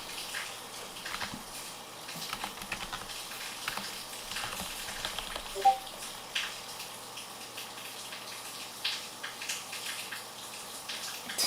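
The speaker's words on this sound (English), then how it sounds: "It's raining like crazy today." Heavy rain falls steadily outdoors as a soft, continuous hiss and patter with scattered drips, fairly faint and even throughout, with no talking.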